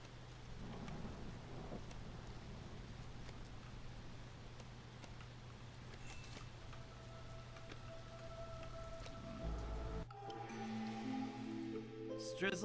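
Drizzle-season rain in the video game Against the Storm, a continuous soft patter and hiss of falling rain with low rumbling underneath and a few brief game tones near the end.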